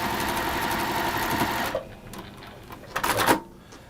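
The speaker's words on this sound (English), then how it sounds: "It's very clever, this Juki machine." A Juki sewing machine stitches continuously in a steady, loud mechanical whir that stops abruptly, followed by a few short bursts of stitching nearby with no one talking.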